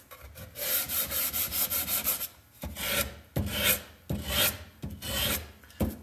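Coarse sandpaper rasps across wood in a series of quick, close back-and-forth strokes, loud scratchy bursts separated by short pauses.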